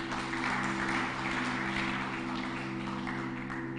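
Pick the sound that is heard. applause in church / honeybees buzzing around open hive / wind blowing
applause in church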